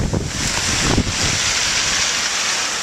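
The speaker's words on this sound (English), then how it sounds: "We've got a water flowing Clarence" Rushing, hissing water pouring steadily through a storm gutter during Hurricane Irene in Northern Virginia, broadband and close, with a few low buffeting gusts early on.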